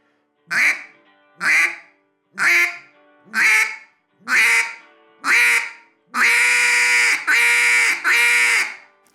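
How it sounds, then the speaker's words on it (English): A duck call blown as a hail call in a series of nine loud quacks, the first six short and evenly spaced, the last three longer and more sustained. "we'll start with a quack, and we're going to build up pressure on it until we can hit that first note of a hail call"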